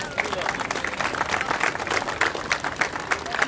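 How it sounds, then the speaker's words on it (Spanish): Applause and clapping for children from an audience at an outdoor clown show in a park, sustained dense crackle of many hands at moderate level with crowd noise mixed in. "un aplauso a los niños, no más"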